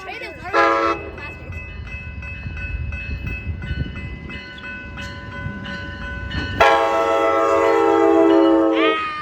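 A Charger locomotive train passes a station near Merced, California, rumbling steadily, with loud sustained horn blasts at the start and again near the end.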